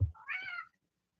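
A house cat gives a single short meow, near and fairly clear, followed by silence.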